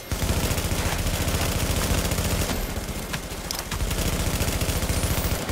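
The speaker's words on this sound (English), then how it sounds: "You heffa, you put a shot turret on me." Rapid automatic gunfire from a shock turret in Tom Clancy's The Division, a loud continuous burst of dense rattling shots that barely lets up for the whole stretch.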